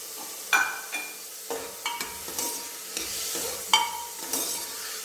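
A spoon stirs Mysore bonda batter with chilli and turmeric powder in a bowl, irregular close scraping and sticky slaps roughly every half second, with brief clinks against the side.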